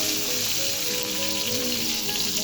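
Soya chunks with potato and pointed gourd fry in a pan, giving a dense, continuous close-up sizzle and crackle, with faint music playing in the background.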